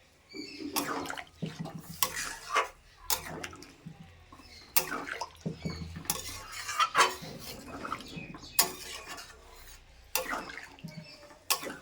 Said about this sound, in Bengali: তো আমি কিন্তু নারকেলের জলটা এবার দিয়ে দিলাম